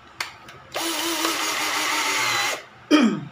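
A Black and Decker GC1800 drill drives a 1 1/2 inch black gypsum screw with a Phillips bit, a short click before a steady motor whir lasting about two seconds, then a brief rising spin-up burst at the end.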